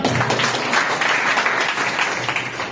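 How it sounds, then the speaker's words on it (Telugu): A church congregation at a Sunday service claps together in a dense, lively burst of many hands, loud and close, sustained for a few seconds. "చప్పట్లు కొడదాం."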